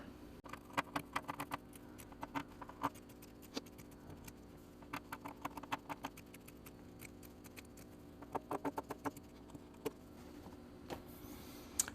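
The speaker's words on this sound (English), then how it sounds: "now we want to take our pinking shears and we're just going to go around the perimeter" Pinking shears snip around the edge of a zippered fabric bag on a sewing table, a quiet, close run of crisp clicking cuts in irregular bursts with short pauses between.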